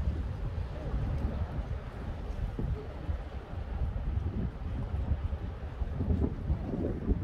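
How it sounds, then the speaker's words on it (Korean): Strong wind buffeting the microphone outdoors on the water, giving a continuous low roar and rumble with gusty swells throughout. "바람이 많이 봅니다"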